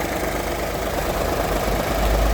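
A Ford Ka three-cylinder engine with an intermittent power-loss fault runs close by, a dense steady drone with rough vibration throughout, loud and unbroken.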